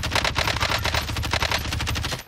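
Rapid automatic fire from an M13 rifle in the Call of Duty game Cold War era multiplayer, a loud, continuous burst of closely spaced shots running the full length without pause.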